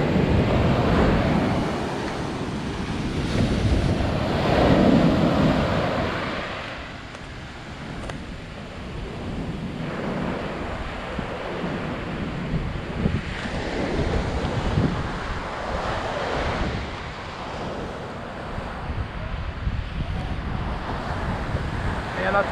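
Ocean waves roll onto the beach at Balneário Camboriú, a broad continuous wash of surf with swelling surges, heavily mixed with wind buffeting the microphone.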